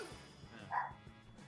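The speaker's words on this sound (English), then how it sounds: "I can hear your dog." A dog barks once in the background, a short, muffled and fairly faint yelp set against low room noise.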